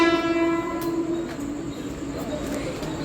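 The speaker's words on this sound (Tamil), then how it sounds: "லோக்கல் ட்ரெயின் வந்துருச்சுன்னு நினைக்கிறேன்." A local train arrives at a station, its horn sounding with a long tonal blast at first, then fading into rumbling rail noise with faint clicks as it rolls in.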